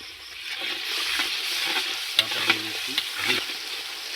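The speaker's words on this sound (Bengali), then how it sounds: "এবার দিয়ে দিচ্ছি আদা বাটা" Ginger paste frying with dried chillies, black pepper and other spices in a brass pan for mutton curry, a continuous close sizzle with soft stirring scrapes and a few light knocks.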